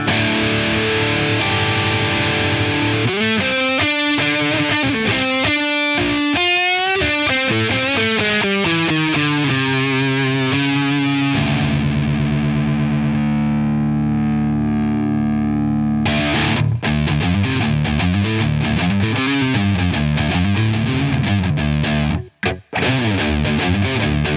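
Heavily distorted Harley Benton SC-DLX electric guitar on the middle pickup plays loud riffs and sustained chords with a thick, mid-toned crunch, alone with no voices.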